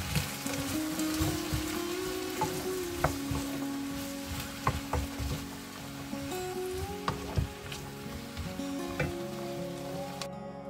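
Quinces cook in a pan with a little added water, letting out a soft, steady sizzle and bubbling with scattered pops under gentle background music.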